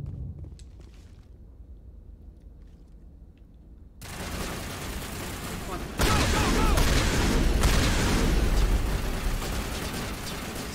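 Sustained gunfire from a Mass Effect firefight on Legendary difficulty, starting quieter then jumping to a loud, dense, continuous barrage of shots and impacts that fills the rest of the stretch.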